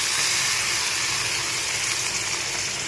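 Chopped onions and tomatoes sizzle in an oiled pan for dal khichdi, a steady, close, bright hiss of frying that stays at an even level the whole time.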